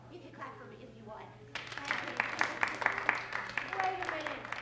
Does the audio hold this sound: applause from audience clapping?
yes